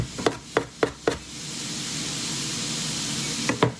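Chickpeas sizzle in a hot pan with a steady, soft frying hiss, broken by several sharp taps or knocks at the start and end, probably a knife chopping nearby.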